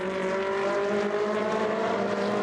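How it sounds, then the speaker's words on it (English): A Coppa Shell race car on the Sochi circuit holds a steady, loud engine drone with a strong tonal whine, close by and continuous. "Blast on the throttle before braking once again for turn number 5 as Rick Lovett makes a move up the inside of"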